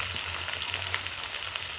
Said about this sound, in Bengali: তারপর তেলটা গরম হলে পেঁয়াজটা দিয়ে দেবো।